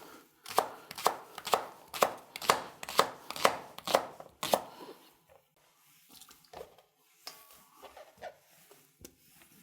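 A knife chops leek on a cutting board in about nine quick, evenly spaced knocks. A few sparser, quieter cuts follow in a quiet kitchen.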